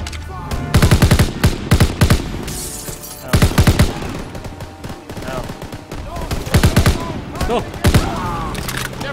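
Gunfire in the WWII shooter Call of Duty WWII: several loud, close bursts of automatic fire arrive in clusters with short pauses between them, while voices talk over the action.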